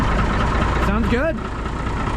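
A truck engine idles steadily as it warms up, a constant low rumble close by, heard under people talking.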